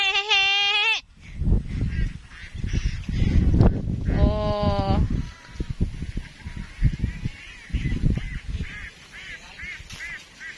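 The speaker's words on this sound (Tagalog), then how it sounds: "So, ayan yung mga kambing." Goats bleating at night on a goat farm, two clear nearby calls among rustling and chewing sounds, with people talking in between.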